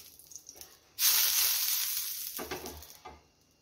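Oil sprinkled onto a hot dosa griddle bursts into a loud hiss that gradually fades, after a quiet start.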